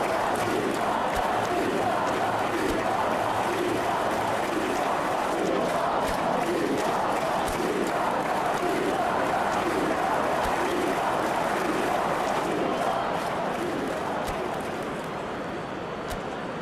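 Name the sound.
annoyed football stadium crowd in a video game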